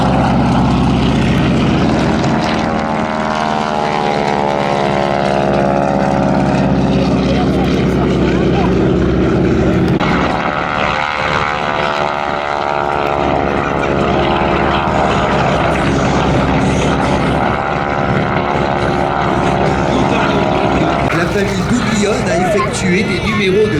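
The propeller aircraft 'Cracheur de feu' taxis at the 2022 Meaux airshow, its engine droning loud and steady with a throbbing prop beat, while a commentator talks over the sound.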